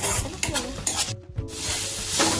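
Crushed green chilli and coriander thecha sautéing in a pan, a soft steady sizzle with spoon-stirring scrapes and brief clinks, close by, with a short quieter gap partway through.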